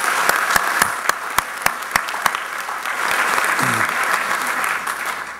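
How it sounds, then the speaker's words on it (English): Applause from a school convocation audience, sharp individual claps at first blending into a fuller steady clapping that fades toward the end. "Let's give each of them another well-deserved round of applause."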